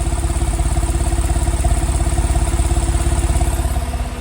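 A 2009 Porsche 911 Cabriolet idles through its dual exhaust, a steady, rapid rumbling pulse heard close and fairly loud for several seconds without any voices.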